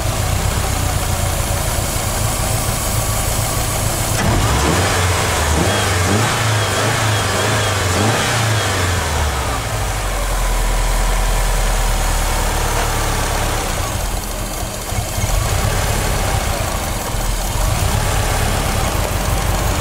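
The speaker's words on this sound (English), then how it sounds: "Every so often I'll give the engine a rev." A Subaru engine revs up and falls back to a steady idle, loud and close throughout with a sustained low rumble and rising and falling engine pitch, no voices.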